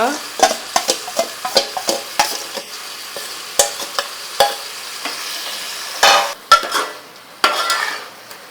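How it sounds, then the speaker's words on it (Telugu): A spoon scrapes and clanks against a pot as marinated chicken is stirred for village-style chicken biryani, rapid rhythmic metal knocks over a soft sizzle, close and distinct, with a brief clatter of the chicken being added. "ఇప్పుడు మొత్తం కలిపి ఉంచుకున్న చికెన్ అయితే మొత్తాన్ని వేసేయాలి"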